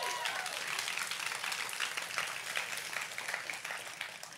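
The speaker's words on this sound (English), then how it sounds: "I appreciate the applause" An audience at a memorial gathering gives a soft, steady round of applause, even in density and fairly distant throughout.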